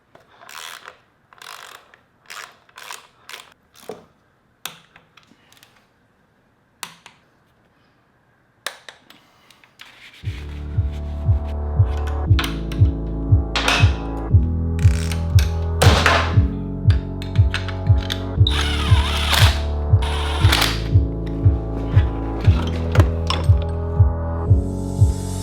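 A ratcheting wrench tightens nuts on the crankcase of a wrecked Ducati Monster, starting with scattered clicks and clinks, then settling into long runs of loud, close, rhythmic ratchet clicking.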